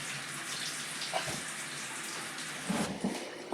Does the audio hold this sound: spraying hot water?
yes